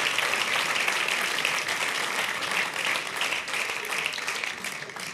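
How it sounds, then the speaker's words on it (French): A stand-up comedy festival crowd breaks into loud, dense applause that stays full and steady, then starts to fade right at the end. "donc on applaudit pour vous"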